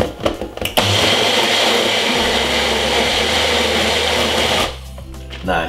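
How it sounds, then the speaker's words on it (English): A blender making juice whirs loudly and steadily for several seconds after a brief start-up, then cuts off near the end. "Just to make sure my blender is alright."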